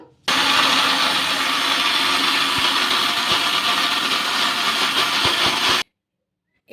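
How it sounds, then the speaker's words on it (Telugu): A kitchen mixer grinder runs steadily, grinding coconut idli batter with a loud, continuous whirring drone for several seconds, then shuts off abruptly into near silence. "ఇప్పుడు మూత పెట్టేసుకొని మిక్సీ అయితే పట్టేసుకుందాము"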